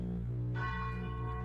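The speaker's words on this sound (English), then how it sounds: "You hear it in the distance, the bell ringing." A distant bell with a steady, sustained ringing tone and humming overtones, heard alone in a dark, quiet setting.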